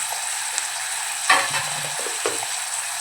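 Potatoes and carrots frying for Malvani-style pea rice, stirred in a pan with a light sizzle and a few close scraping strokes of the spoon, two of them clearly louder.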